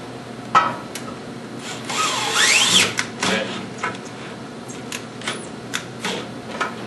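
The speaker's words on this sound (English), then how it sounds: "If you drill it, we need to tap them." Scattered tool noises: a brief whining drill burst, rubbing and scraping, and several sharp taps and clicks spaced irregularly, up close.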